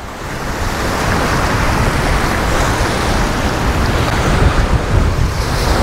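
Sea waves break continuously on a beach in Egypt under steady wind, with strong wind buffeting on the microphone. The broad rushing surf and wind hold a loud, even level throughout, with no voices.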